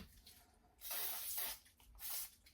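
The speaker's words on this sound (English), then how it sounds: "spray oil to clean the cosmoline off of it" Spray oil hisses from an aerosol can onto a motorcycle camshaft being fitted in a Sportster engine bottom end, two close bursts of bright hissing spray, the first longer than the second, with no talk.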